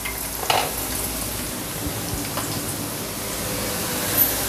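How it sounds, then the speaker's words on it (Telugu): Cauliflower pieces fry in hot oil until crispy, giving a steady, close hiss of sizzling with a few faint crackles and no talking. "క్యాలీఫ్లవర్ ఉడికి అది కొంచెం క్రిస్పీగా అయ్యే వరకు వేపుకోవాలి."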